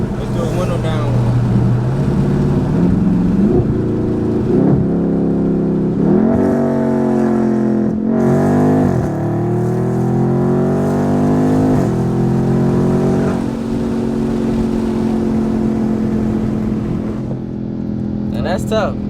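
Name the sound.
Dodge Charger Scat Pack with pedal box accelerating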